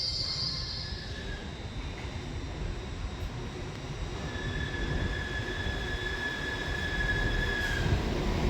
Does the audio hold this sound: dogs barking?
no